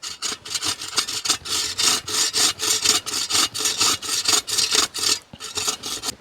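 A wooden stick is hand-sawn for a camp pot hanger in the woods: a quick run of about fifteen rhythmic back-and-forth rasping strokes, close and clear, with short pauses between bursts.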